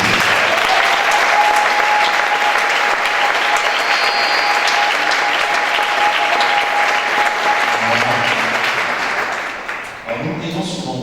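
A church congregation applauding, dense sustained clapping from a large crowd filling the room, loud and steady before tapering off near the end, with a voice heard over it.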